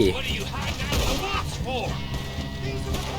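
Gunfight in Red Dead Redemption 2 with rapid, overlapping gunshots and loud cracks over game sound, while players talk excitedly throughout.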